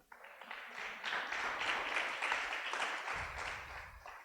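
A church congregation claps for the Lord, a dense steady round of applause from many hands. It swells after the first second and holds fairly loud before easing slightly near the end.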